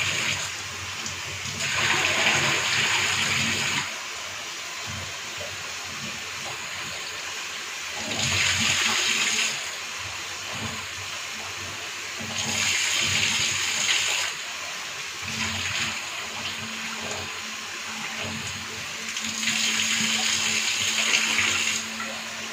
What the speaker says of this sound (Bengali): এবার সবজিগুলো ধুয়ে নেব।